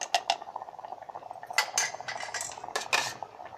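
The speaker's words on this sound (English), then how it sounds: "Mix this well." A spoon stirs tomato chutney with dates inside an electric kettle, giving irregular metallic clinks and scrapes against the pot, close and moderately loud.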